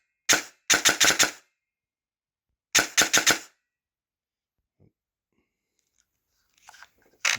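A King Arms CQB-R airsoft rifle fires full auto with something muffling it: two short, loud bursts of rapid snapping shots close by, separated by silence, followed by faint handling noises.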